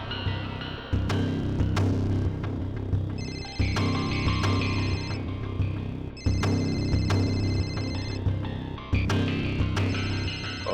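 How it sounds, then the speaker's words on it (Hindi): A mobile phone rings with a repeating melodic ringtone, its phrases cycling every few seconds at an even, fairly loud level through a tense crime-drama scene, with no voices over it. "और ये जो बेल बज रही है,"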